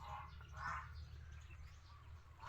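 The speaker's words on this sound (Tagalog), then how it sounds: "Tingnan nyo po mga karami nga. Yan. Oh, napakarami mga kapato." A large flock of ducks in a wide pen, some of them fairly big, gives faint, scattered calls over a steady low background hum, with no talking.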